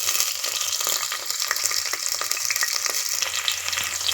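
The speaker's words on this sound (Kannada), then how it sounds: "ಎಲ್ಲವನ್ನು ಸೇರಿಸಿ ನಾವೀಗ ಚೆನ್ನಾಗಿ ಫ್ರೈ ಮಾಡ್ಕೋಬೇಕು." Ginger, garlic, green chili and curry leaves fry in hot oil for a fish head curry, giving a steady close sizzle with light crackles and occasional stirring clicks, no voices.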